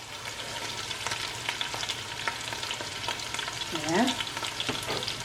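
Rosemary and thyme sizzle in the pot of a Ghanaian red snapper stew, making a steady frying crackle with occasional stirring, and a brief voice is heard.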